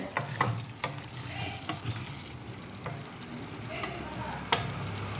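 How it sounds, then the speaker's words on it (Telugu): Palak paneer is stirred in a pan after salt goes in, with a soft steady sizzle under repeated scraping and clacking strokes of a spoon, close and moderately loud. "ఒకసారి కలుపుకుందాము"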